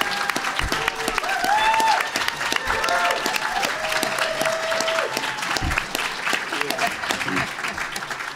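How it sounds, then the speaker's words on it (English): Audience applause at an academic panel session at The New School, a full round of clapping from a seated crowd lasting several seconds, loud and sustained with a few voices faintly beneath it. "please give a big round of applause for Jonathan Nedcatz"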